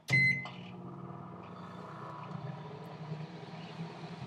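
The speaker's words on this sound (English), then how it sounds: "see if we can truly microwave eggs" A microwave oven cooking eggs starts with a sharp beep and click, then settles into a steady, low, close hum with faint rattling.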